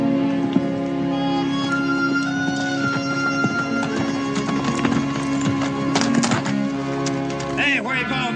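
Horse hooves clip-clop irregularly amid a busy outdoor scene with a steady hum, and a brief whinny near the end.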